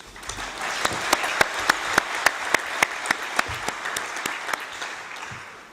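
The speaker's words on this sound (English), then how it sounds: "let's give them all a round of applause" Applause from the audience at an international opening session on South-South cooperation, a steady wash of clapping with a few sharp claps standing out, fairly loud and fading toward the end.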